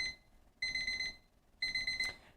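Two bursts of rapid electronic beeping from a digital kitchen timer, each lasting about half a second, separated by a short pause, fairly close.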